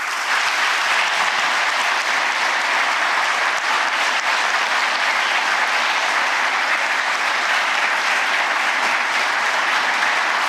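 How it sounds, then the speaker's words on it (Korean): A large audience at a Korean government national report event claps loudly and steadily for about ten seconds, welcoming the president with dense, continuous applause and no speech. "여러분 뜨거운 박수로 환영해 주십시오."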